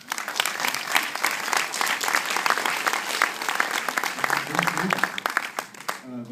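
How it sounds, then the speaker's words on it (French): Sustained applause from a cinema audience at a film premiere, steady dense clapping throughout with a voice starting to speak at the very end. "je voudrais que vous applaudissiez M."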